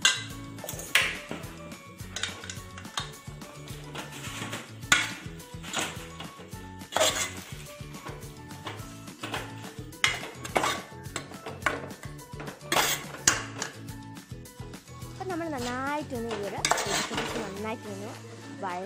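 Chicken curry masala being mixed with a spoon in a pan, producing rapid, continuous scraping, knocking and clinking of metal on the pan over a low sizzle, close and busy for the whole stretch without speech.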